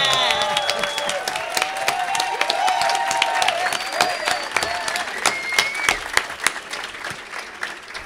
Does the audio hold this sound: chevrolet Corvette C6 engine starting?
no